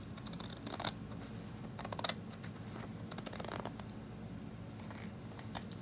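Scissors snip through diamond wrap sheets from a Dollar Tree pack, row by row, in a series of crisp close cuts spread irregularly over a quiet room background.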